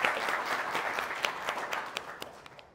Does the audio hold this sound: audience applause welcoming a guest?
yes